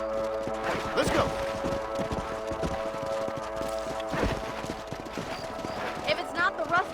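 Horses clip-clop at a gallop in the Red Dead Redemption video game, a steady rhythm of hooves running underneath people talking.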